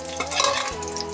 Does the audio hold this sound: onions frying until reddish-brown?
yes